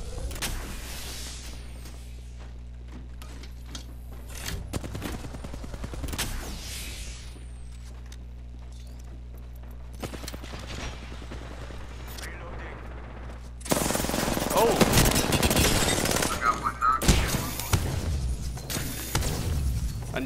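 Video game gunfire: sparse single shots early, then a loud sustained burst of rapid automatic fire in the second half, with a player's voice talking over it.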